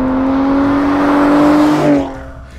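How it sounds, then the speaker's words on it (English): A 2022 Ford F-150 Raptor truck engine revs with a steady droning exhaust note that holds, then eases off and fades toward the end. "I actually really like the sound of this exhaust"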